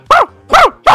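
A dog in the Siren Head horror video game barks three times, loud and close, in sharp evenly spaced yelps with no other sound between them.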